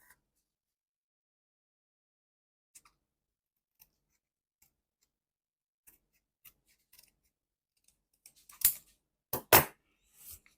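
Scissors cutting paper while making a junk journal cover; a few faint snips and ticks spread out, then two or three louder, crisp close cuts near the end.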